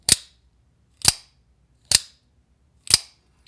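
The EMP EDC Pulse OTF prototype knife fires four times with a solid, positive thunk, each one a crisp, close, loud snap at roughly one-second intervals with quiet between them.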